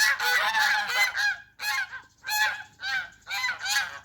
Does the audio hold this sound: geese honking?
yes